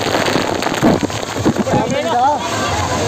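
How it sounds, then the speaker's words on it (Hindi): Rain pours down steadily during a chilly wet spell at an outdoor theme park, a constant hiss heard close by while a person speaks and calls out over it. "बारिश हो गई"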